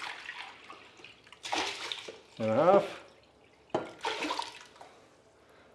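Water splashes into a pot for rice alongside a Thai yellow chicken curry, arriving in a few short pouring bursts between bits of nearby speech.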